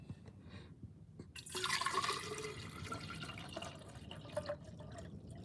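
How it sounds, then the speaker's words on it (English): Water is poured into a glass in a quiet space, a short trickling splash that fills steadily for a few seconds with light dripping after. "first I'm gonna fill this with water."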